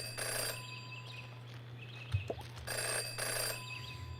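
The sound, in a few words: ringing phone in video game Jenny LeClue Detectivu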